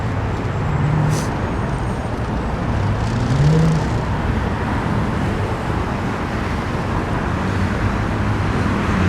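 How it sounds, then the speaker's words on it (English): A Toronto city bus turns left amid street traffic, heard as a steady low engine drone blended with a continuous traffic rumble and a few faint passing swells. "No, that bus is turning left."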